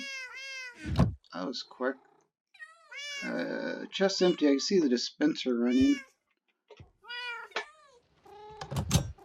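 Cats meow repeatedly in a video game, several close, distinct mews coming in bursts with short gaps, while someone talks over them and a few soft thunks are heard.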